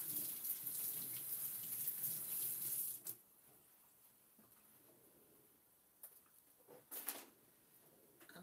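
Tap water runs into a sink while an herb is washed under it, a steady splashing rush for about three seconds, then quieter drips and brief bursts of flow as the stream is turned on and off again.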